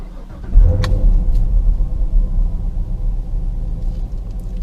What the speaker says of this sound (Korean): 엔진 시동을 걸면은 이렇게 한 바퀴 세레모니가 이루어지는데, 의외로 이 배기 사운드가 그렇게 크지가 않아요